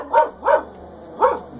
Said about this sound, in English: we have dogs barking, sorry